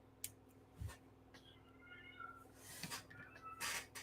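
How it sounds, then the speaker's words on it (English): A kitten meows a few times at moderate distance, with short high cries in the middle and near the end over a quiet indoor background. "we got a kitten who thinks they need to let me know something"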